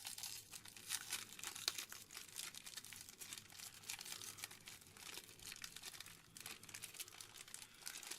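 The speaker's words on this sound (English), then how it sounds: "We are gonna open some fake Pokemon cards here" Packs of fake Pokemon cards are torn open, a steady, soft crinkling and crumpling of foil wrappers with occasional tearing, close but quiet and unbroken by speech.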